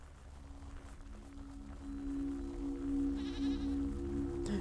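A goat bleats in the video game Caves of Lore, a sustained, fairly loud call toward the end rising over a steady game soundtrack with a droning tone.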